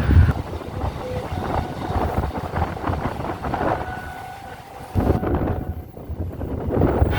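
Local train running between Bandel and Naihati Junction, a steady close rumble of rolling carriages with light rhythmic rail clatter and wind buffeting the microphone, continuous throughout.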